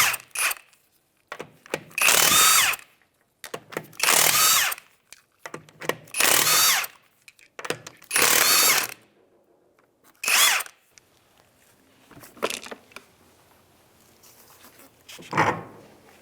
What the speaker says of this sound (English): Go ahead and take off the lug nuts now.